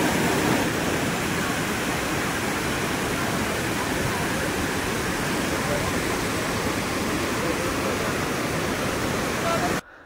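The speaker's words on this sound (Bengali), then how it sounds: "জলের স্রোত প্রচুর ছিল।" Strong rushing water pours at a waterfall, a dense, steady roar that stays loud and unbroken for nearly the whole stretch before cutting off abruptly at the end.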